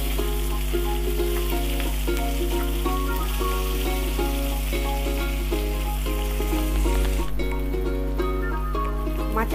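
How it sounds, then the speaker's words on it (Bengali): Fish heads frying in hot mustard oil in a wok, giving a steady, dense sizzle that continues throughout, with background music running underneath. "তেলটা গরম হয়ে গেছে, এবার মাছের মাথাগুলো তেলে দিয়ে দেব।"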